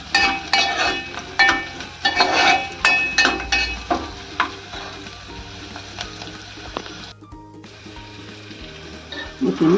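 Garlic and finely chopped green chillies frying in a pan for kulith pithi, a loud close sizzle with rhythmic stirring scrapes that fade to a softer hiss, with no talking.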